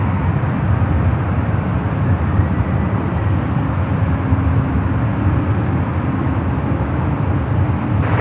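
A Cathay Pacific Boeing 777 heavy taking off from runway 28 left at San Francisco airport, a steady broad jet roar heard at a distance and sustained throughout.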